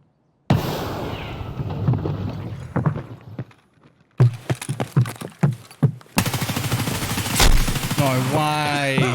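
Gunfire in Escape From Tarkov cracks out in close, loud bursts and rapid single shots, separated by brief silences, with a scraping noise and a voice near the end.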